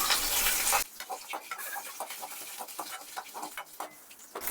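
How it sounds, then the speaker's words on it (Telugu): Tempering seeds, curry leaves and garlic frying in hot oil for a peanut chutney: a loud burst of sizzling hiss gives way to scattered crackles and pops. "తాలింపు గింజలు వేగిన తర్వాత కరివేపాకు వేసుకోవాలి. కరివేపాకుతో పాటు ఒక తెల్లగడ్డ కూడా వేసుకోవాలి."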